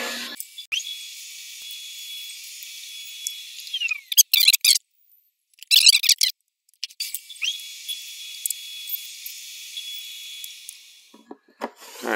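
A table saw cuts wood for a kitchen cabinet door, its motor whining high and steady, broken by rough bursts of blade contact and brief silences, then spinning down near the end.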